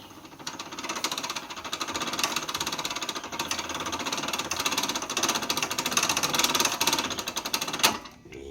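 A bamboo strip cutting machine runs steadily with rapid mechanical chattering and knocking, loud and close, ending with a sharp clack near the end.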